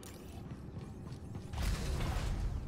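A door mechanism grinds open in Star Wars Jedi: Survivor, a steady mechanical whir with creaking and ratcheting that swells louder about halfway through and keeps running to the end.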